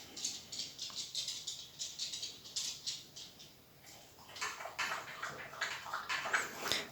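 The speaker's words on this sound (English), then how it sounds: "That's my dog having a drink of water that you can hear in the background probably." Rapid rhythmic lapping of a dog drinking water, close and fairly quiet, repeating in quick bursts with a short pause midway.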